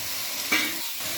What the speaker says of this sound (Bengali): এবার সবজিগুলো মোটামুটি একটু ভালো করে ভেজে নিতে হবে